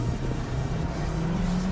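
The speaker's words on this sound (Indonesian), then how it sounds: "ini full maksimal akselerasi dari si Suzuki Fronx" Suzuki Fronx compact car under full throttle acceleration, its engine drone loud and close, climbing gradually in pitch as revs build with road noise underneath.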